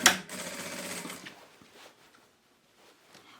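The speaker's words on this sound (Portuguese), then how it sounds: "eu vou começar a rebater a costura aqui, ó, em toda a minha volta até terminar" A sewing machine topstitches around a seam with a half-centimetre presser-foot margin, sewing a fabric toy-storage basket; a brief close burst of stitching runs about a second, then fades into quiet handling noises.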